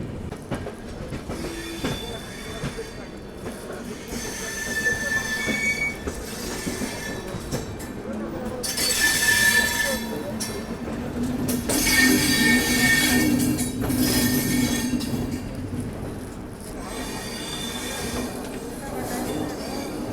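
Rake of the 12313 Sealdah–New Delhi Rajdhani Express moving at Tilak Bridge station, a rolling rumble with rising and falling surges of wheel noise and clatter, with voices faint in the background.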